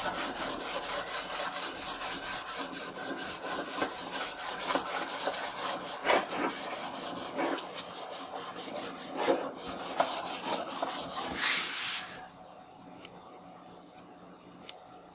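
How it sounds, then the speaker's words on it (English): A Silver Label Commodore 64 circuit board scrubbed with a brush, making rapid, rhythmic back-and-forth rasping strokes up close that stop abruptly, leaving a few faint ticks. "Just kind of scrubbing all throughout."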